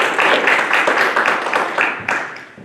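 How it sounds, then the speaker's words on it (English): An audience at a town meeting and budget hearing claps for town department heads in a short burst of dense applause that tapers off over a few seconds. "I would do a big round of applause for our department heads."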